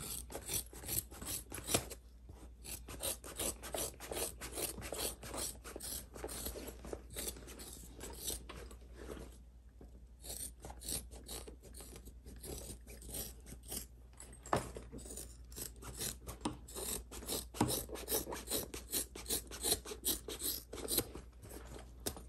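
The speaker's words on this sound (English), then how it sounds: "I will trim off the excess." Scissors trim excess fabric while a handbag is being made, a long run of close, crisp snipping and rasping cuts in quick irregular succession, fairly faint and with no talking.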